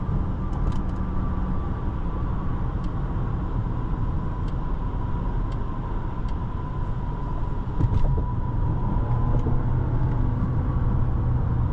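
A 2023 Mercedes-Benz S 500 4MATIC luxury sedan on a test drive in its sporty drive mode, a steady low cabin rumble of engine and road noise, smooth and continuous throughout, with no talk.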